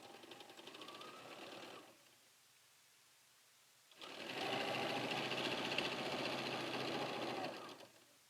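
A sewing machine stitches quilt triangles near a center diamond, running in one steady burst, pausing for about two seconds, then buzzing again in a longer, louder run before stopping.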